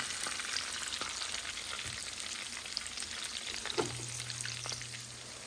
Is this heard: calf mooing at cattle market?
no